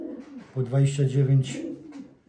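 A racing homing pigeon from a Szarek line coos close to the microphone, a short run of several soft throaty coos in rhythm, with a brief word spoken alongside.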